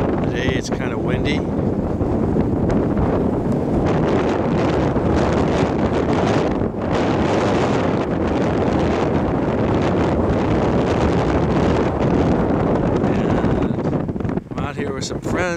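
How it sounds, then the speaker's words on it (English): Strong wind roars across a marsh bay on Cape Cod where kiteboarders gather, a loud, continuous buffeting rush against the microphone throughout. "Today it's kind of windy."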